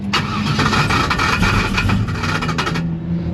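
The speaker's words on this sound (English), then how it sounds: "Sounds like a broken flywheel." A car engine cranks and starts with a suspected broken, loose flywheel, giving a loud, close, harsh rattling clatter with rapid uneven pulses throughout, cutting off sharply near the end, with no talking.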